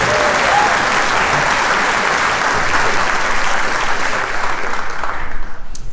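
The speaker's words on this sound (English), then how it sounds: "Can we have a round of applause for all of our mothers?" An audience at a spring concert applauds for the mothers present, a loud, sustained wash of clapping that thins slightly toward the end, with a few individual claps standing out.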